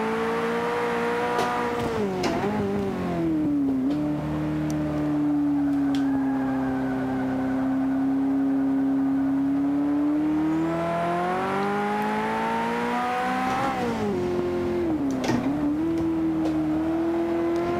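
Lamborghini Countach and Ferrari F40 engines racing in a video game, a loud steady engine drone that rises and falls through gear changes, with revs swooping down and climbing again several times across the run.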